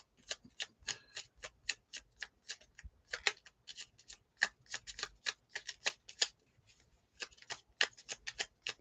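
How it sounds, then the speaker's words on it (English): Tarot cards are shuffled in quick, crisp bursts of flicking and riffling, faint and close, with brief pauses between runs and no talking. "Trying to do that reader shuffle."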